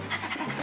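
A pet dog pants rapidly and steadily close by, with quick rhythmic breaths and no other sounds.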